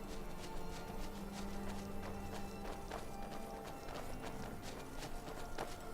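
A horse trots in the video game Skyrim, with steady clip-clop hoofbeats in an even rhythm over a continuous background of game ambience.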